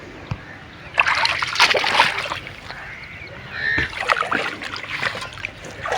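Irrigation water splashes and sloshes in a farm field channel as it is dammed off with soil, with close, uneven bursts of splashing and a low rush of flowing water.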